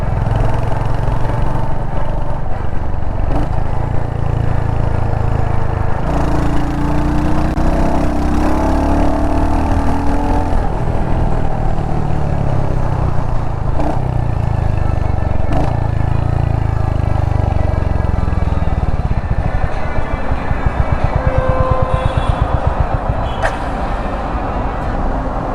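A 2022 Royal Enfield Hunter 350 motorcycle's engine runs continuously while riding, a loud steady thump with rises and falls in revs as it accelerates and shifts, heard close with wind noise.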